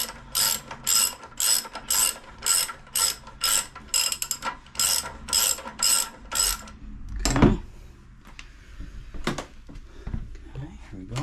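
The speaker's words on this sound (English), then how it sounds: "So with the 19 millimeter, okay, socket, now we're gonna undo the main axle," Ratchet with a 19 mm socket undoing the front axle of a 2007 Yamaha V-Star 1100cc motorcycle: a steady run of about a dozen rapid clicking ratchet strokes, then a metallic clunk and quieter handling noises.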